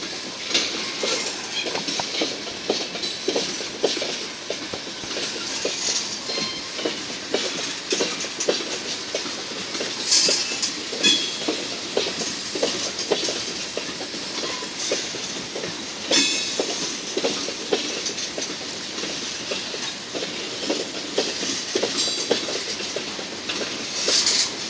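Freight train hauled by smoking GE locomotives climbing uphill out of Glendive, Montana, its cars rolling past with steady clickety-clack wheel beats and rumble, continuous and fairly close with no talk.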